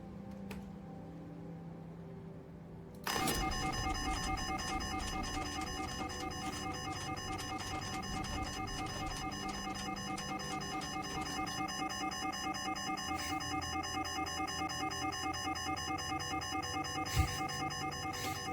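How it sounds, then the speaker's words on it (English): A fire alarm in a video game starts abruptly and rings loudly and continuously in a steady, unbroken drone over low background ambience, after a few seconds of quiet. "Pull the fire alarm."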